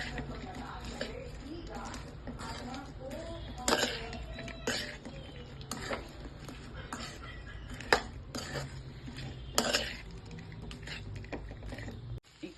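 Fried potatoes being stirred into Manchurian gravy, with scattered spoon scrapes and clinks against the pan at irregular intervals over a quiet background, close by.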